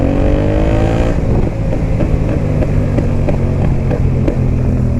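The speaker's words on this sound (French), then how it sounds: "Pour faire des flammes avec un pot Akrapovic Racing." Motorcycle with an Akrapovic Racing exhaust revving hard, its pitch falling off after a second into a loud, rumbling exhaust with repeated sharp pops and crackles close by.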